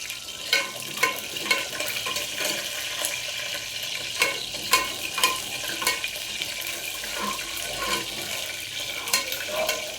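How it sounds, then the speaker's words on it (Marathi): Onion sautés in hot oil with cumin, curry leaves and mustard seeds in a pan while being stirred, giving a soft, steady sizzle broken by repeated scraping clicks of a spoon, fairly faint with no talking. "कांदा छान परतून घ्यायचे 5 मिनिटं।"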